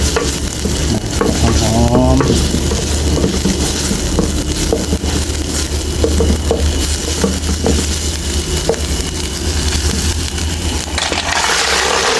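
Shallots stir-fry in an electric pan as the base for river snails with basil, a loud, close, steady sizzle broken by repeated scraping and clattering strokes of the spatula.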